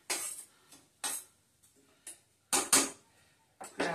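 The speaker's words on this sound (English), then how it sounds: "grab a whisk" Kitchen utensils clinking as a whisk is grabbed while cooking beef stroganoff, a series of separate metallic clatters and rattles, close and fairly quiet.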